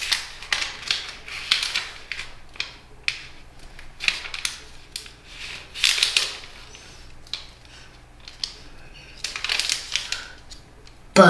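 Paper being folded and creased for an origami lyrebird, a series of crisp rustling swipes and presses in irregular bursts, close and moderately loud with no talking.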